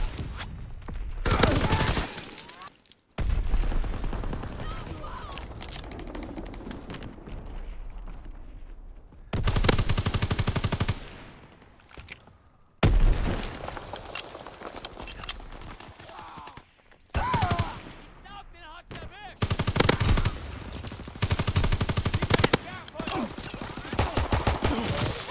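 Enemy bomb blasts, artillery explosions and gunfire in a war game: heavy booms and sustained volleys crash in repeatedly between quieter stretches, loud and close.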